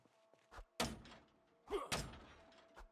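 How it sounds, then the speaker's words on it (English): Door being smashed in during the survival video game Project Zomboid, with several heavy wooden thumps and bangs spaced irregularly, close and loud, with quiet gaps between blows. "So I'm thinking we're probably smashing in the door."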